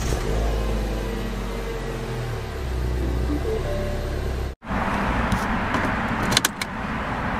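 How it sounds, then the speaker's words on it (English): Mini Cooper with push-button ignition, its engine running steadily at idle close by, followed by a brief break, then lighter cabin noises and a few sharp clicks. "Just put your foot on the brake and the clutch and hit the button to start."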